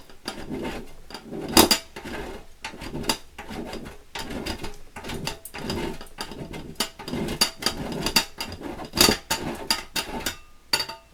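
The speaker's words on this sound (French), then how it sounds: "je viens le râper" Hand grater scraping something to make a scented sachet for a wardrobe drawer, a quick irregular run of scratchy strokes and sharp knocks, close and fairly loud, with no talking.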